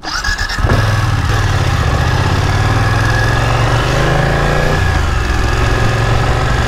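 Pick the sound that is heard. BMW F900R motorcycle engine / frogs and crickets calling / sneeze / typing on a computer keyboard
BMW F900R motorcycle engine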